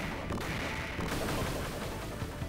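Dense retro gunfire from the 1993 Sega Genesis game Shinobi III: Return of the Ninja Master, a steady loud barrage of rapid shots with no talk over it.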